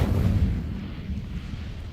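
Incendio fire spell cast in Hogwarts Legacy, a deep rumbling whoosh of flame with booming low-end weight that fades gradually, loud and up front with no talk.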